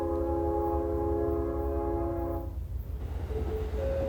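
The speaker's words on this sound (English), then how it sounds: "The bullet train arrives with precision, a promise kept to the minute." A Japanese bullet train's horn sounds in long, steady tones over the deep rumble of the arriving train, then cuts off as the rumble continues and a brief higher tone appears.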